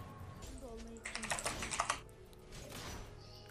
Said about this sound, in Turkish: Kanka klavyeyi çatır çutur basma lan.